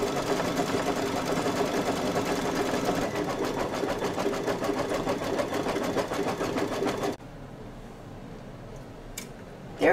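A multi-needle embroidery machine stitches in a fast, steady mechanical chatter, loud and continuous for about seven seconds before stopping abruptly, leaving faint room noise and a light click at the end.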